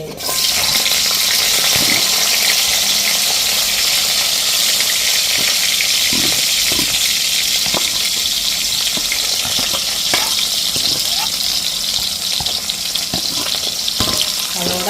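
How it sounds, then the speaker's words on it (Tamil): Onions frying in hot oil: loud, continuous sizzling and crackling, with occasional stirring sounds, close by and without talk. "இப்போ எண்ணெய் கொதிக்க வச்சுட்டு ஃபர்ஸ்ட்டுக்கு நான் போட போகிறது வெங்காயம் உள்ளி"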